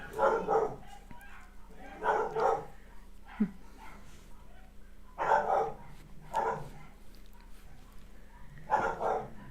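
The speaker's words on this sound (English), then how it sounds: "There's a dog over the back that is dog reactive, and it sets off every single dog as it walks past" Several dogs bark in bursts at a moderate distance, roughly four rounds of barking spaced a couple of seconds apart, set off by a dog-reactive dog being walked past behind a house.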